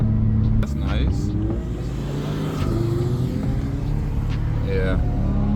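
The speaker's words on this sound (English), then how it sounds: "And these exhausts though." An Audi R8 convertible engine rumbles and revs nearby in traffic with deep throaty exhaust tones rising and falling, while people talk over it.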